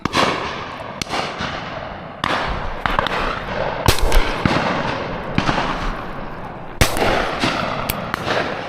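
Shotgun shots at pigeons go off over a dense, busy outdoor background, with several sharp reports scattered through the stretch. Some cracks sound sharper than others.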